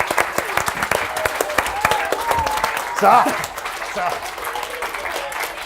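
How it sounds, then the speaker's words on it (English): A book festival audience gives itself a round of applause after a show: clapping continues steadily under someone talking, with a brief louder swell partway through. "Give yourselves a Yourselves huge round of applause"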